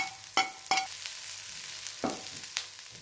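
Green chillies go into onions frying in a pan, a close, soft sizzle broken by a few sharp clinks and scrapes of a spoon stirring, with no talk.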